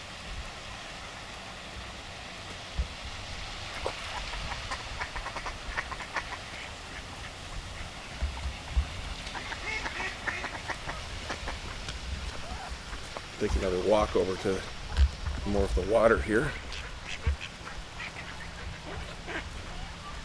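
Ducks quack in a few short bursts partway through, over outdoor background noise near water, with someone talking nearby.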